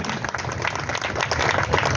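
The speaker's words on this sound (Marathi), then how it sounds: "सर्वांनी जोरदार टाळ्या वाजून महाराज साहेबांचं स्वागत करायचंय." A crowd applauds steadily to welcome a guest at a book festival event, a dense wash of clapping throughout.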